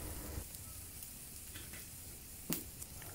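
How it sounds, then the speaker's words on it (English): Rice being stir fried in a pan for lotus leaf rice, a soft continuous sizzle with occasional scraping and stirring knocks, plus one sharp clatter midway. "Then continue to stir fry for a little while"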